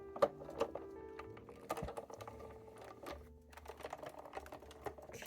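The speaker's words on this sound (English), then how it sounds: "And then put the cover plate on and run it through." A die cutting machine feeds a card with a cover plate through its rollers, producing close, faint clicking and a low mechanical whir with scattered light taps.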